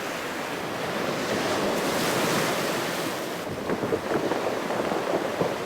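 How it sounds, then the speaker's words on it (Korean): Winter sea waves wash over round pebbles on a Gangneung beach, a broad surging roar that swells and recedes, followed by a clattering rush of stones rolling in the backwash, with wind buffeting nearby. "덮쳐올 때마다 시원하게 퍼지는 돌 구르는 소리"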